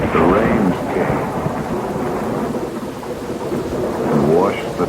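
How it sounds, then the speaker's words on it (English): Heavy rain pours down steadily with rolling thunder rumbling through a storm scene in a 1975 Bigfoot film, loud and continuous throughout. "But the rains came"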